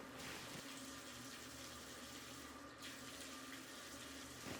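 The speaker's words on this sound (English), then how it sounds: "Then we'll take water into our hands and we will wash our faces." Water splashes and runs steadily as hands scoop it onto the face during wudu washing, a continuous close splashing with tap-like flow throughout and no talking.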